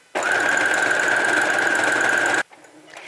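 A sewing machine runs a zigzag stitch in one steady, close burst of about two seconds with a humming whine, then stops abruptly, leaving faint handling noise.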